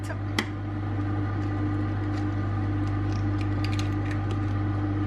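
A steady low mechanical hum of a running microwave oven melting butter, with faint clicks and creaks on top.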